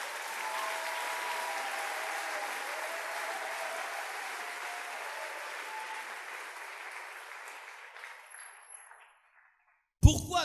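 A church congregation applauds and acclaims the Lord in a sustained, dense wash of clapping that slowly fades out into brief silence before a sudden burst of sound at the very end.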